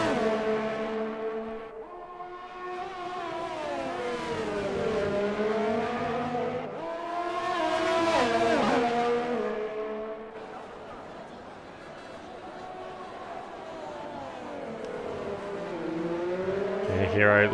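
Race car engines in a PC racing sim at Melbourne, Australia, including a McLaren, whine and rise and fall in pitch as cars brake and accelerate, loud and continuous under commentary.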